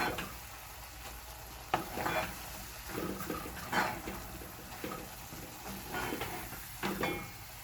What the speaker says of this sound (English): Leave that, let it boil a little bit